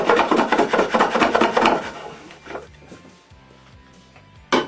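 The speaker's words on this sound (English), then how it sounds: "After the glue is dry, I plane the protruding pins and tails of all the drawers." Hand plane trimming protruding dovetail pins and tails flush on assembled wooden drawers, a run of rapid, fairly loud rasping strokes near the mic that fade to quieter scraping and faint knocks.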